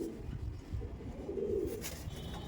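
A lone pigeon coos inside a loft of tournament-flying pigeons, a low soft warbling call heard fairly near amid quiet background rustle.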